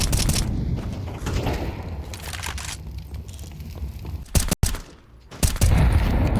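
Counter-Strike 2 gunfire in a tense match: rapid overlapping shots and cracking bursts crowd the first seconds, a brief sharp gap falls silent, then heavy firing resumes loudly, with no voices present.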